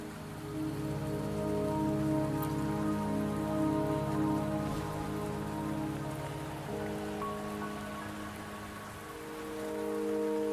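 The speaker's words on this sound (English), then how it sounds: "Don't worry, the rain won't last much longer." Steady rain falls in the video game Wuthering Waves, a soft continuous patter of raindrops on surfaces layered over a low humming game score, moderately quiet and without speech.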